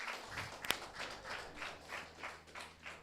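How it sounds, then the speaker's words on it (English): A small group claps in a quick, uneven burst of applause for tied teams during a quiz, heard faint and a little distant over about three seconds, with one sharp louder clap early on. "Let's give them a round of applause"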